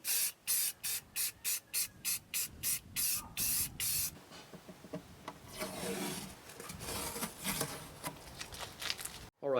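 A spray gun lays a second coat of white paint inside a homemade wooden furniture box, heard as a run of short, loud hissing bursts with brief gaps, then a longer, softer, uneven spray.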